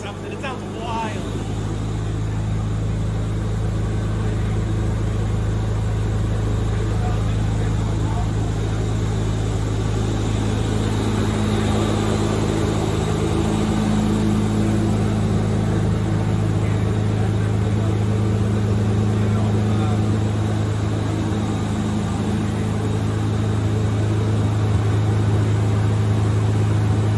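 A heavily modified DeLorean runs on a dyno, its engine a steady, loud, droning rumble with strong low hum throughout, holding fairly even with slight swells in intensity.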